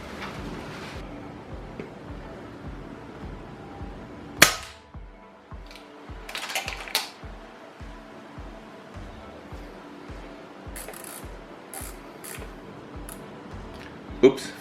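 An air rifle fires Thor 25 grain hybrid slugs at 30 meters on a low power setting, producing a few sharp, sudden cracks spread across a quiet background, with a person talking.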